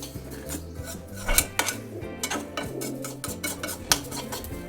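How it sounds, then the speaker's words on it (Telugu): Sesame seeds dry-roasting in a bare pan with no ghee are stirred with a utensil, giving close, rhythmic scraping and light metallic clinks. "అందుకని ఉట్టి బాండీలోనే నువ్వులు వేయిస్తున్నాను."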